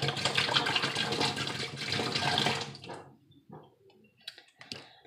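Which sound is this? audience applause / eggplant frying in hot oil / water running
water running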